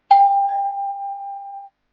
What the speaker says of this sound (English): Just then, the doorbell rang.